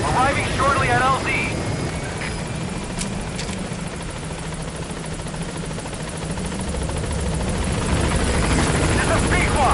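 Helicopter rotor and engine noise in the Metal Gear Solid V video game as the aircraft approaches the landing zone, a steady loud thrumming wash throughout, with a radio voice speaking briefly over it.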